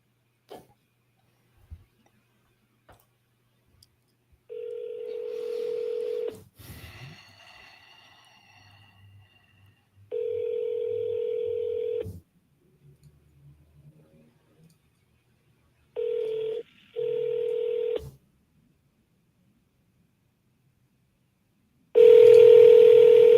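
Outgoing telephone call: a few faint dial clicks, then repeated steady ringback tones in separate bursts of about two seconds each with a short break inside one, and a louder tone at the end, with low murmur between.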